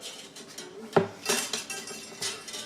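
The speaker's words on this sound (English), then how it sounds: "you just take the cutter and cut each string right above the sound hole." Quiet, sharp metallic snips of old wire cutters cutting acoustic guitar strings above the sound hole sound a few times at uneven intervals, with faint clinks and rattles between cuts.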